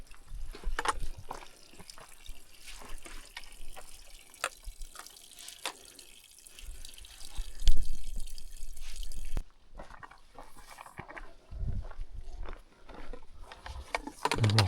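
Water dripping and trickling in a cold mountain gorge in the Sary-Aygyr area near Shymkent, a close, irregular patter of drops and small splashes that carries on steadily, with no talk over it.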